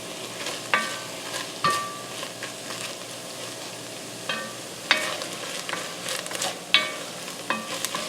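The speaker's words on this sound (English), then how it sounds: "So we're cooking this until the onions and the apple have softened." Onions and apple softening in a hot pan, a low continuous sizzle broken by repeated sharp scrapes and clinks of a utensil stirring.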